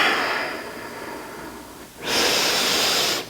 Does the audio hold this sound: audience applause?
no